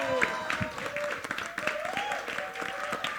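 An audience at a film trailer launch event in Juhu claps and cheers in a steady burst of applause while voices talk over it.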